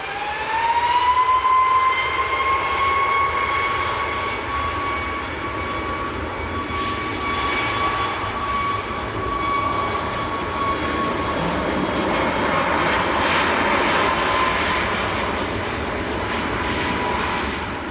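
A Ryanair Boeing 737 Max jet departs from Manchester Airport with a loud, sustained engine roar and a high whine that rises and then holds steady. The rumble builds and swells toward the end as the aircraft climbs away.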